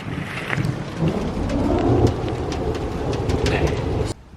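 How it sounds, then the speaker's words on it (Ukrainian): A thunderstorm breaks over an apiary: loud rolling thunder and steady rain hit nearby surfaces, continuous and close, then stop abruptly near the end. "Починається гроза."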